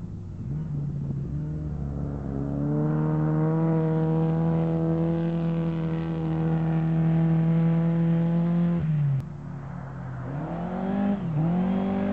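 Cars driving fast on a track around a lake, one engine holding a loud, steady drone for several seconds, then dropping and revving again nearby.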